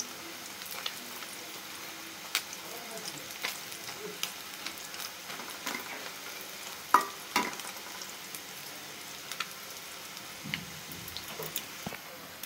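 Small kachki fish pakoras fry in hot oil, a soft, even crackling sizzle with scattered pops and light clinks of a utensil, fairly quiet and close throughout.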